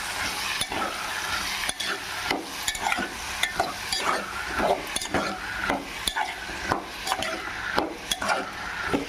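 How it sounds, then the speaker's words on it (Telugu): Tindora (ivy gourd) fries in a pan with a steady sizzle while a ladle stirs it, scraping and clinking against the metal in repeated strokes every second or so, close and moderately loud. "ఒకసారి గరిట పెట్టి తిప్పుకుందాం"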